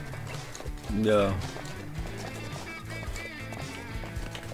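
Hooves clip-clop from a horse in a forestry simulation game on PS4, with a loud whinny-like burst near the second mark; people talk over the game sounds throughout.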